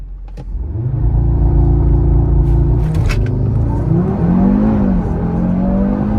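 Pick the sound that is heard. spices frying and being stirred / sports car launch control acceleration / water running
sports car launch control acceleration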